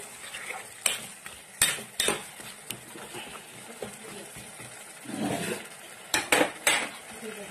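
Matar paneer with spices being stirred in a pan, heard as repeated sharp clanks and scrapes of a spoon against metal with a faint sizzle underneath. The strokes are irregular and close, and there is no talk.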